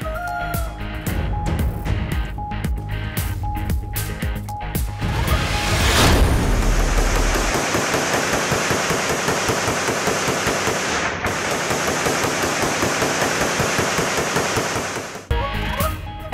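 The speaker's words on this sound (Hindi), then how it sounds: "हवाई फायरिंग से दफा 144 को छलनी कर दिया गया" Celebratory aerial gunfire at an election victory celebration in Pakistan, a dense, loud crackle of rapid shots and bursts running continuously under crowd noise.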